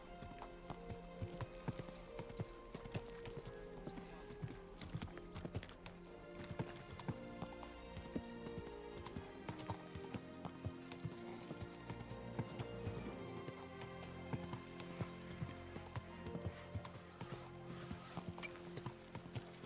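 Horse hooves clop at a slow walking pace through the city streets of Kutenberg in Kingdom Come: Deliverance 2, with steady rhythmic steps over game music and faint mechanical clicks.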